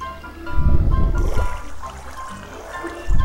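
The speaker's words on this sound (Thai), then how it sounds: "ตรงนี้เป็นน้ำใช่ไหมเรากั้นไว้ดีกว่า" Flowing water in a Minecraft 1.8.1 hardcore game makes a loud, continuous rushing and gurgling, swelling at the start and again near the end.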